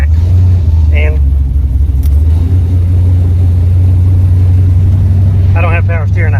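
A car rolls along the road after leaving a gas station, its steady low engine rumble continuous throughout, with brief faint voices or sounds near the start and end.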